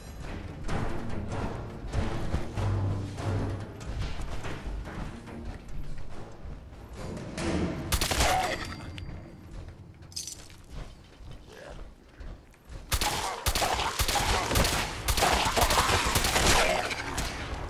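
Gunfire in the Fallout 4 video game, loud dense bursts and impacts with clattering mechanical noise, heavy and continuous with brief lulls.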